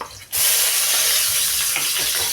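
Ginger pieces sizzle loudly in hot oil for a chicken tinola, a sudden burst of steady frying hiss that starts abruptly and stays close and continuous, with no talk.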